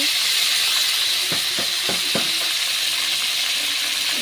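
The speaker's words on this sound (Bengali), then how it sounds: "কড়াইতে অল্প সরষের তেল দিয়ে মেলা ট্যাংরার মাথাগুলো ভেজে নিচ্ছি" A steady, loud sizzle of tangra fish heads frying in a little mustard oil in a kadai, with a few soft clinks from stirring partway through.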